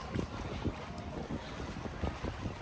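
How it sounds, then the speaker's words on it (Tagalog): Breezy wind gusts outdoors on a boat at sea, steady rushing air with soft buffeting against the microphone and faint water sounds, fairly quiet throughout. "Masarap ng simoy ng hangin dito"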